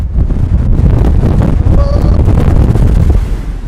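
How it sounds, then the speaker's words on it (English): Loud, steady wind roaring and buffeting the microphone throughout, with rushing air swelling as the CraZanity pendulum ride swings nearly upside down at Six Flags Magic Mountain. "So yeah, it's very windy."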